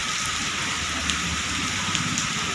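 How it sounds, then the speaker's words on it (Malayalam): Heavy rain pours down at a temple in a dense, continuous hiss, with occasional louder drops spattering on nearby surfaces. "നല്ല മഴയാണ്"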